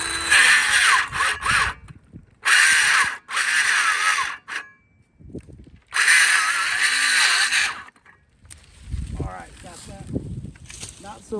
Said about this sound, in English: So I am glad that I brought the mini Ryobi skill saw.